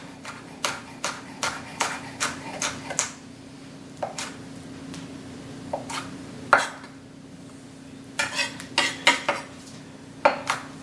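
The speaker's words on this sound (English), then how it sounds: "a hot pepper from my garden. I'm going to fine slice this." A knife fine slicing a garden-grown serrano hot pepper on a cutting board, a series of close, crisp knocks in quick bursts with short pauses between runs.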